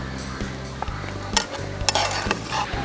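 Fried raisins, nuts, green chillies and sautéed onion are scraped from a pan into a bowl, giving soft metallic clinks and spoon scrapes over a faint background hum.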